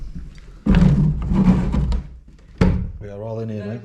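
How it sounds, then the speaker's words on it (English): A door in an old cottage is pushed shut with a single solid thump, heard among people talking close by. "I'll close that door."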